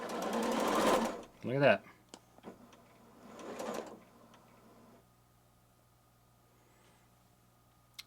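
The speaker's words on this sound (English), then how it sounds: "there we go. We're sewing." A Janome sewing machine with a thread cutter fault runs in a loud stitching burst, then a rising motor whine and a second softer run, fading to quiet hum; a voice speaks briefly.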